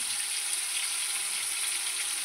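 Ginger, garlic and green chilli paste sizzles with tomatoes in a wok for chicken biryani, a continuous, even hiss of frying at moderate level with no talk.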